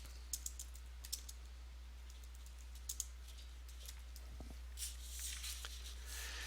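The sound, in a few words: typing on a computer keyboard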